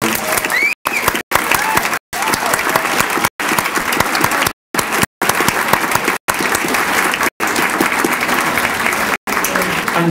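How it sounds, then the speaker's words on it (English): Sustained audience applause for honored educators at a Rotary Club awards event, dense steady clapping filling the room with several brief dropouts, loud and continuous throughout. "Let's give them another round of applause."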